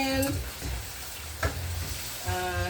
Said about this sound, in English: I was there stirring the meat, cover and stir, cover and stir.